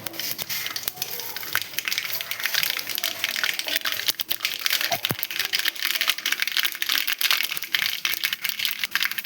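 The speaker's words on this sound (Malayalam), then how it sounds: "മോര് ചൂടാകുമ്പോഴത്തേക്ക് നമുക്ക് കടുക് പൊട്ടിച്ചെടുക്കാം" Dense, fast crackling and popping, like mustard seeds spluttering in hot oil, steady throughout with occasional sharper pops and no talking.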